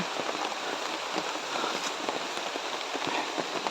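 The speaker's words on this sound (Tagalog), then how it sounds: "Ayun, umuulan na." Steady rain falls, pattering densely on surfaces nearby in a constant wash of drops with no voices.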